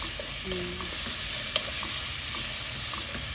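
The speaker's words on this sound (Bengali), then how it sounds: "আমাদের চিংড়ি মাছ পেঁয়াজ একসাথে দেওয়া হয়ে গেছে। এখন একটু ভাজা ভাজা হইবে" Loud, steady sizzle of shrimp and onions frying in a pan, with a few stirring clicks and scrapes, no talking.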